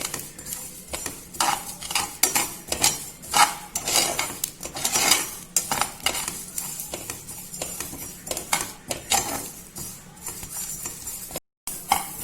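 Cloves and black pepper stirred with a metal spoon in a hot pan for mango pickle, giving repeated scraping and clinking strokes with a faint sizzle, close and loud, no talking.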